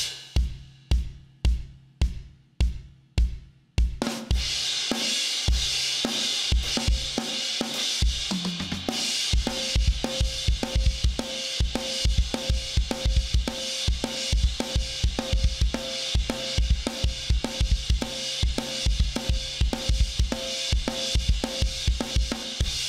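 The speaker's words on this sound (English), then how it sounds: "we've got like four bars of like real heavy kind of instrumental playing before the vocals come in" Heavy rock drum kit groove from a rock song, opening with a few evenly spaced solo hits before the full kit crashes in with dense, pounding beats and cymbals for the rest of the passage, loud and close, no voices.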